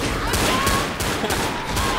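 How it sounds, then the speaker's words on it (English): Rapid pistol fire in a video game, a steady string of loud close shots repeating roughly every third of a second, carrying on throughout. "I'm just gonna start firing my pistols"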